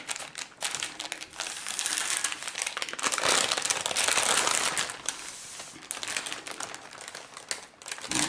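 Baking paper crinkles and rustles continuously up close as it helps roll a Nutella Swiss roll sponge, a dense crackling that swells and eases over several seconds.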